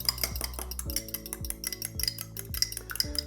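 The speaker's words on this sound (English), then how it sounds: "we're going to crack an egg. Give it a good whisk." An egg is whisked in a bowl for teacake glaze: rapid, rhythmic clinking and scraping of utensil against dish, steady and close, with no voices.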